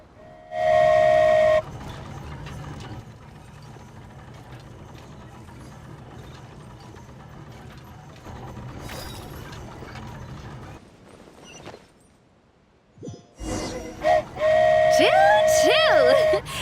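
A flying Aerial Express train in Genshin Impact blows a loud, steady whistle at the start and again near the end, with long stretches of rattling, clanking rail mechanism and rumble between, and a brief quiet dip before the final blast.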